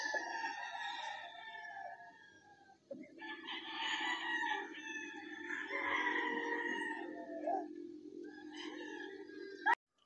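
A Firebird regular Class AB gamefowl rooster crows repeatedly at fairly close range. Several long harmonic calls come one after another with short breaks between them, over a low background hum, and a sharp bump lands near the end.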